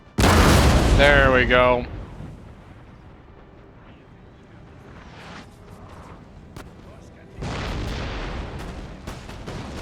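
Cannon and artillery fire from a Napoleonic-era battle in Napoleon: Total War, with a loud booming burst at the start, fainter rumbling and distant shots through the middle, and another swell of battle noise near the end, with someone speaking briefly over it.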